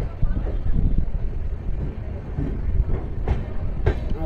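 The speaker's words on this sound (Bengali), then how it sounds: "এক্স্যাক্ট রাইট টাইমে কিন্তু আদ্রা স্টেশনে ঢুকিয়ে দিচ্ছে ট্রেন" A passenger train pulls into Adra Junction station in Purulia with a continuous low rumble and rattling, and a voice talks over it throughout.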